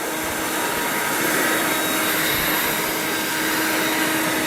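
A Ryobi 40V Whisper Series leaf blower running on its highest non-turbo setting, a steady broadband rushing roar of air that stays loud and constant throughout, with no voices.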